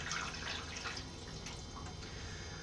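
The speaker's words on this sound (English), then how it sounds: "I'll pour my chemical into the tray." Developer chemical is poured into a darkroom tray during black-and-white print developing, making a soft, continuous liquid trickle with faint drips that stays close and quiet, with no talking.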